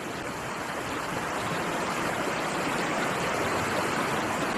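An outdoor gas burner lit for frying fish roars with a steady, close, dense hiss of flame, unbroken for several seconds with no talking.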